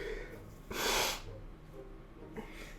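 A single sharp sniff through a runny nose, a short breathy burst in a quiet room, with a softer intake of breath following.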